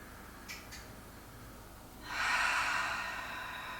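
A slow, deep breath taken during a core-strengthening yoga class: a soft airy inhale-like rush that swells after two seconds and holds, close and fairly quiet, preceded by two tiny sniffs, with no talking.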